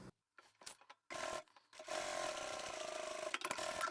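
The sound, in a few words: sewing machine sewing pouch lining closed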